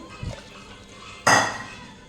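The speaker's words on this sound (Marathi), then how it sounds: "हे जे बट्टीचं जे पाणी होतं ज्याच्यामध्ये बट्टीचा पूर्ण अर्क उतरला आहे त्याने हे असं वरणाच्या भांड्यात टाकायचं कुकरमध्ये" Dal bati cooking water, carrying the extract of the batis, is poured into the dal vessel in a pressure cooker, heard as a short, bright splashing burst of liquid that quickly tails off after a faint clink.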